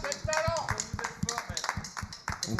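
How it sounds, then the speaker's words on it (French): A concert audience claps in applause, a steady patter of close, crisp hand claps running underneath people talking over it. "Vous pouvez l'applaudir."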